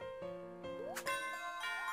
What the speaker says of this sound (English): there's the 2 bell, there's the 3, and there's the 5